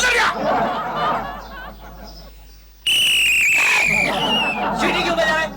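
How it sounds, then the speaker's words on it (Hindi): A watchman blows a sharp whistle in bursts amid a tense street scene, shrill tones cutting in loudly over chatter and voices of people talking. "सीटी क्यों बजा रहा है?"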